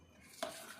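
A spoon stirs coconut milk payasam simmering in a pot, making one brief scraping swirl against the metal after a quiet start, close and short with a faint bubbling sizzle.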